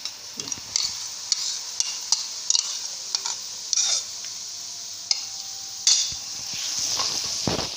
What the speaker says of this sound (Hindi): तो अच्छी तरह इसको भून लेना है।